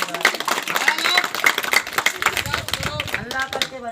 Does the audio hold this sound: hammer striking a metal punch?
no